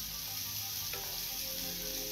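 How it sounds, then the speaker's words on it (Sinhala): Garlic frying in a few spoonfuls of hot oil for a Sri Lankan bitter gourd curry gives a steady, close sizzle that runs unbroken with no voices. "තෙල් ටික රත් වුණාම සුදු ලූණු ටික බැදෙන්න දාන්න."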